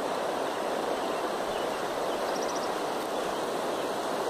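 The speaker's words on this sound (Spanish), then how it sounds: "Bienvenidos al río Ariare." The Ariare river flows steadily, a broad continuous wash of water noise with no breaks, fairly loud and alone without voices.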